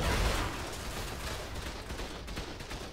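Gunfire in the survival game ARK: a dense, continuous rattle of shots rolls on steadily throughout, loud and unbroken, with no voices over it.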